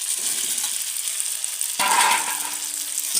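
Eggs being fried and stirred in a pan along with potatoes for an egg curry, a soft sizzle that jumps louder as they go in, followed by a metallic clink and a sustained hiss.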